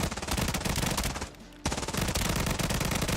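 Automatic fire from an SMG with a very high rate of fire in a first-person video game: a loud, rapid continuous burst, a brief pause, then another dense stream of shots.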